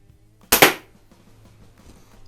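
A single sharp crack from a vintage multi-pump air pistol, a Benjamin 137 or Crosman 130, fired nearby, then quiet with a faint low hum.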